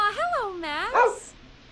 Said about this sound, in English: He's the best dog a guy could ask for.